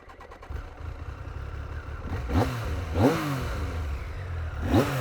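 A 26-year-old Triumph Daytona T595 motorcycle idles nearby, then its engine is blipped in three sharp revs, each rising quickly and falling back to a rumbling idle.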